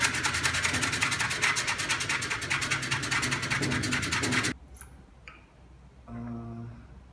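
Sanding block rubbed over a wooden spatula in quick, regular back-and-forth strokes, a rhythmic scratchy rasp for about four and a half seconds before stopping, followed by faint handling noises.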